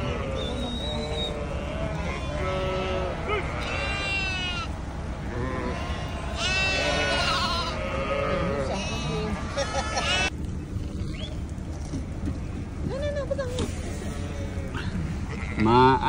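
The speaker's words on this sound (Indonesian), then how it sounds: "Kambing di tengah jalan." Goats bleat repeatedly on a road, some calls near and others farther off, over a constant background rumble, with voices talking at times.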